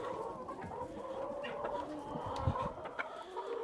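Hens cluck softly and repeatedly nearby, with scattered short calls over a quiet background.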